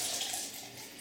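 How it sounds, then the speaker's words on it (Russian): Water sprays onto a potted pineapple plant grown indoors on a stairwell landing: a brief, soft, steady hiss of fine spray close by, with no talking. "вода вот у меня сейчас прыснула вовнутрь ананаса"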